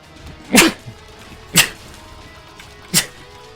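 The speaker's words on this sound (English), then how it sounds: "I've been sneezing a lot today." A person sneezes three times, each a sharp, loud burst about a second or more apart, close to the microphone, with quiet background and no talking between them.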